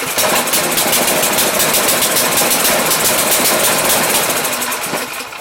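A Tecumseh 136cc engine on an Ariens Sno-Tek 20-inch two-stage snow blower idles loudly and close, a steady rapid putter that stays even and then eases slightly at the end.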